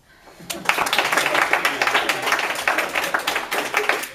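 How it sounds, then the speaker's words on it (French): An audience at a university eloquence contest bursts into applause, building quickly into a dense, steady patter of many hands clapping, with some voices mixed in. "Je demanderai d'abord au public d'applaudir, s'il vous plaît."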